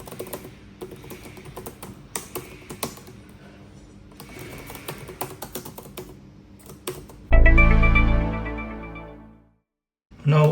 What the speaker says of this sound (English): The keyboard is compact with good travel. The typing on this is in fact comfortable.